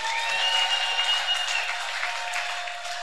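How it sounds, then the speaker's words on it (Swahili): A church congregation clapping together during a sermon, a steady wash of applause from a crowd, sustained and fairly loud for a few seconds. "Mtu mweneza shangilia kwa makofi"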